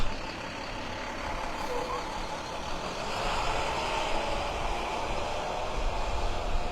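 A school bus passing on a residential road, its broad engine rumble and road roar holding steady and swelling slightly as it goes by, with no speech over it.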